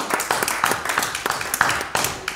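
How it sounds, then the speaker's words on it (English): A church congregation claps during a Wednesday service, a run of sharp, distinct hand claps in a loose, uneven rhythm, fairly close and loud, with a few voices calling out underneath. "Give the Lord a hand clap."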